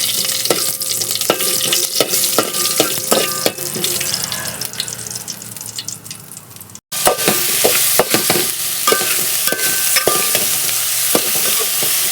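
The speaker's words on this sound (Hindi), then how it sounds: "गर्म करने के बाद इसमें तेज़ पत्ता और जीरा मिलाएंगे" Steady sizzling of bay leaf and cumin frying in hot oil, with sharp crackles and pops and a brief cut midway, close and loud with no talking.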